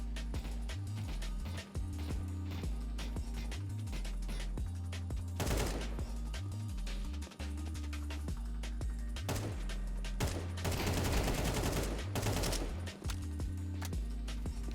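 An LMG and an XM shotgun fire in Counter-Strike 2: dense bursts of automatic fire and sharp shotgun blasts repeat over a low game rumble, loud and close, with no speech.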